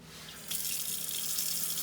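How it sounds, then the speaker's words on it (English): Warm tap water runs into a kitchen sink as potatoes are rinsed under it, a soft steady stream that starts up abruptly and keeps flowing close to the microphone. "just wash your potatoes real good under warm water"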